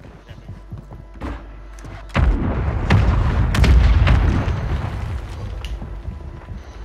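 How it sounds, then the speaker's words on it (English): Mortar fire mission explosions in Warzone 3 gameplay, a series of deep booming impacts starting after a quieter lead-in, rumbling loudly for several seconds with sharp cracks layered over sustained low roar, then fading into lingering ambient rumble. "Mortar, maybe? Requested fire mission."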